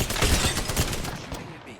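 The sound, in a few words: gunfire in video game Apex Legends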